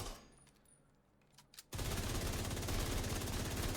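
Sustained automatic gunfire from The Division 2 erupts after a quiet lead-in, loud and dense rapid bursts running continuously to the end with no talking.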